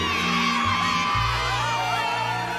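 An arena crowd in an anime cheers and whoops for an entrant, a loud sustained roar of voices with shouts rising over it.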